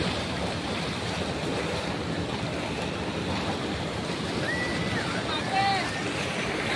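Water pours down over a small check dam near the Palasdari waterfall, a loud, steady rushing roar with a few faint bird calls on top.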